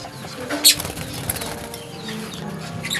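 Lovebirds in a breeder cage flap their wings in a short, sharp burst near the start, then lighter rustles and scattered chirps follow close by in the quiet.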